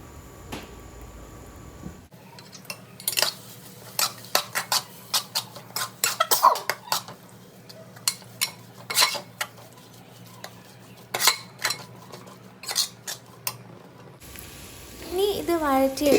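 Metal utensil scraping and clanking in a pan while masala with coriander powder is sautéed for chicken biriyani, giving repeated close, sharp clinks and scrapes at an uneven pace with quiet gaps between them and no talking.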